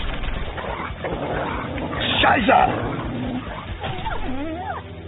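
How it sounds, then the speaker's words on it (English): Dogs whimper and yip amid growls, the sounds overlapping, with a rising whine near the end, while a voice speaks over them. "They brought dogs."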